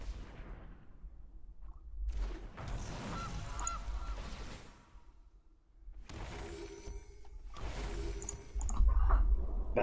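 Loud goose honking and squawking from the Gilded Goose card in MtG Arena, coming in two busy bursts with crashing card-effect sounds and a brief lull between them.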